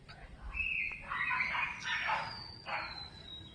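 Crows call outdoors, a few harsh squawks and chirps in quick succession, fairly close, with a faint whistle-like tone trailing behind.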